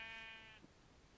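A pink sheep in the Minecraft video game gives one short, quavering bleat up close that fades out after about half a second.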